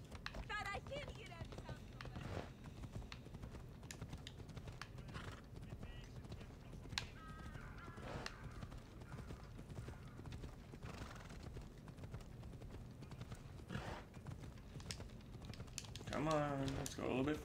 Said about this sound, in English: Y'all see the flaming horse?